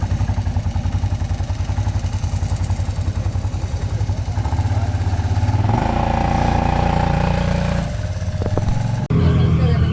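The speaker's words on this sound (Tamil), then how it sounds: "இதுதான் அதோட எக்ஸாஸ்ட் நோட்டு" A drag racing motorcycle at a national drag race meet in Hosur blats and revs, its exhaust note throbbing loud and close, then surging and fading with clattering crowd noise and a voice speaking over it.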